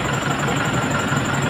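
A truck carrying a 3-meter lathe sits idling, its engine giving a steady close rumble with even texture throughout.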